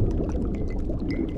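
In a survival crafting game, a magical bottle is filled with salt water, giving a steady, bubbly pouring and gurgling sound that runs close and continuous with no speech.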